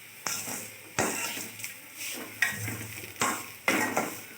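Ragi upma being stirred in a pan, with distinct scraping strokes roughly every second, close and clear, over a faint low hum, no voices.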